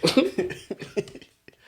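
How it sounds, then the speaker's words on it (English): A short run of harsh coughs, close and fairly loud, bunched together at first then trailing off into a couple of faint hacks. "The cough got me."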